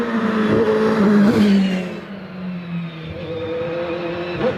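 Racing car in the over 2 litres class at Prescott hillclimb roaring as it accelerates up the course, loud and near at first, then fading into the distance with a lingering drone.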